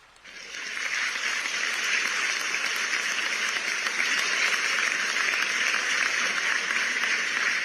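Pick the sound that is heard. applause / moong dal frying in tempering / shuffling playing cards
applause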